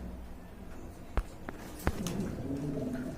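A pair of big, yellow Lahori pigeons coo softly, with a few sharp clicks and a faint, low, steady murmur underneath at moderate distance.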